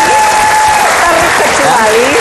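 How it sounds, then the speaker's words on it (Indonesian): Loud, dense audience applause with cheering from a crowd at a televised Indonesian talk show, sustained throughout with voices mixed into the clapping. "Yo, tepuk tangan."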